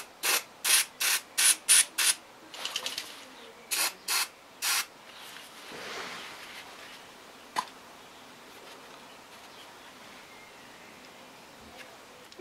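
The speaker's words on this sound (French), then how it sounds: "mettre du dégrippant" Penetrating oil sprayed onto a lawn mower carburetor on a Husqvarna YTH150 ride-on: a quick series of short, sharp hissing spray bursts close by, then a few scattered clicks and faint rubbing in near silence.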